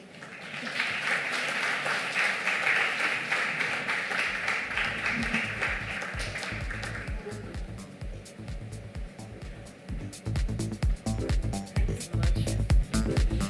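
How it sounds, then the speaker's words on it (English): A business conference audience breaks into sustained applause after a talk, a broad wash of clapping that thins into sparse, uneven individual claps while a voice speaks over the end. "Ladies and gentlemen, a louder round of applause."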